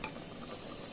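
Chicken curry gravy simmering in an open pot, a soft steady sizzle and bubble with faint stirring scrapes, quiet and close.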